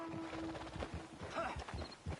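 Horse hooves clip-clop at a steady walking rhythm in Red Dead Redemption 2, with a brief whinny partway through, set against game ambience and some background speech.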